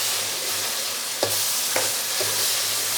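Semolina halwa is stirred in a pan with a steady oily sizzle. A few distinct scraping strokes of the spoon stand out, and no one speaks.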